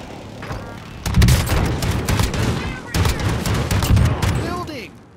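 Heavy airstrike gunfire in the Call of Duty Warzone video game, loud sustained bursts of booming fire in two long volleys, with voices talking under the barrage.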